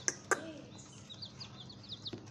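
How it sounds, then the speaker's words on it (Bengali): Pigeons kept on a rooftop, with a couple of sharp chirps at the start and then a run of faint, rapid high calls, fairly distant over a low background hum. "এই যে আমাদের কবুতর"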